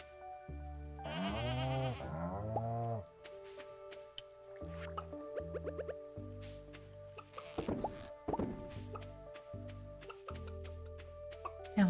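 Goats bleating in the Stardew Valley farming video game, several clear wavering bleats in the first few seconds over soft game music with chimes and dripping effects, then the music carries on alone.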